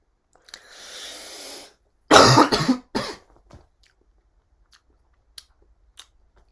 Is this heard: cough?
yes